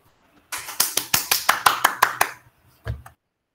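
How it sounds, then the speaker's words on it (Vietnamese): A short burst of rhythmic clapping, about a dozen evenly spaced claps, close and clear, then a single dull thump after a pause. "Một tràng pháo tay nữa xuất hiện."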